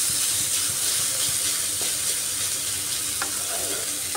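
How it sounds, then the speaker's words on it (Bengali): Onion, ginger and garlic fry with a little salt in a pan, cooking until reddish for a masoor dal and egg dish. A steady, close sizzle runs throughout with a few soft stirring clicks and no talking. "সামান্য লবণ দিয়ে পেঁয়াজ আদা রসুনটাকে সুন্দর করে লাল লাল করে ফ্রাই করে নেব।"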